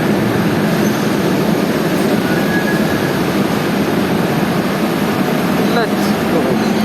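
Kochi metro train heard as a steady, loud broadband rumble and whoosh filling the whole stretch, with a brief rising whine near the end.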